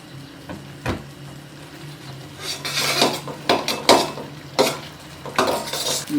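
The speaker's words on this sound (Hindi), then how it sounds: "चमचे मतवातर इसके अंदर चलाते रहना है ताकि ये नीचे ना लगे" A metal spoon stirs suji halwa in a pot on the stove, with repeated close scraping and clinking strokes at an uneven rhythm, growing busier as it goes, over a faint low hum.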